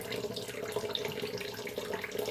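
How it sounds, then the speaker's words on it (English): A bathroom tap runs steadily into a sink while someone rinses their face after a wet shave, giving a constant close splashing stream with no talking. "I'm gonna rinse my face."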